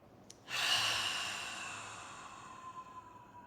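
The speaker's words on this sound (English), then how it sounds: "We're going to breathe in through the nose." A person draws one long, deep breath in through the nose during a guided relaxation exercise: a sudden airy intake that swells close to the microphone, then slowly tapers over a few seconds in a quiet room.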